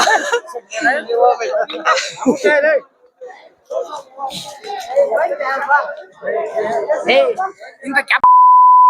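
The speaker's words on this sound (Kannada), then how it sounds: "ಇವ್ನ ಇದ್ದಾನಂದ್ರ ಬರೀ ಬೀಪ್ ಹಾಕ್ಬೇಕು ನಾವು" A single steady censor beep cuts in near the end, loud and sustained for under a second, after an energetic stretch of people talking and laughing at a Kara Hunnime village festival.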